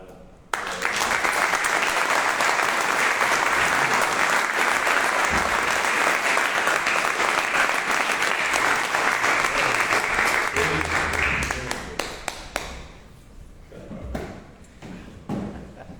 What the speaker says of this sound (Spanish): Te agradecemos con un gran aplauso.